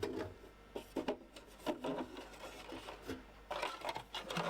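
Phillips screws being removed from the plastic cover of a Time Electronics 2003S DC voltage calibrator. Quiet, close scraping and rubbing bursts of a screwdriver turning come in short irregular spells.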